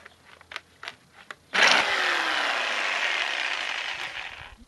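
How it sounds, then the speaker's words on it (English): A jigsaw cuts wood for a two-tone coat rack. A few light taps and clicks come first, then the saw starts with a sharp onset and runs as a loud, steady buzzing cut for several seconds at close range. "don't force your jigsaw. Let it do the work."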